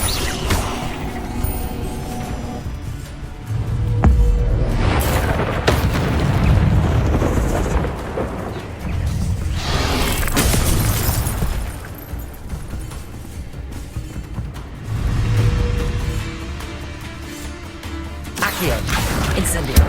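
Spell impacts and explosions from the video game Hogwarts Legacy sound as loud, dense booms, crashes and rumbling blasts with layered game effects throughout, with a voice calling out spells over them.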